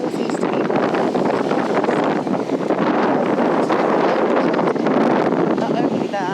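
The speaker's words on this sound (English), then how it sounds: "We've got a northeasterly wind." Strong wind roars steadily across a microphone aboard a sailboat under sail in a northeasterly breeze, a loud, continuous rushing buffet with water wash underneath, filling the whole stretch without pause.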